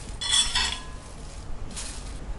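Roasted curry leaves being tipped and scraped from a pan into a separate vessel, giving two short bursts of dry rustling and light metallic clinks, close and moderately loud, with no voices.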